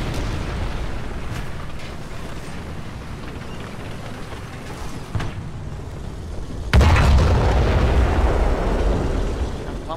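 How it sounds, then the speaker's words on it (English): A KV-2 tank firing a long-range shot in War Thunder, with a distant, muffled rumble of battle broken by a sudden loud, booming cannon blast whose heavy roar lingers afterward. "that's a long range shot with a KV-2"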